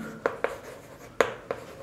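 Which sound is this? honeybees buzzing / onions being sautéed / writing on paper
writing on paper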